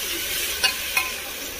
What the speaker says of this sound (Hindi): डाल देंगे अपने चौकी कटे हुए टमाटर, इसको भी हम ऐसे मिक्स कर लेंगे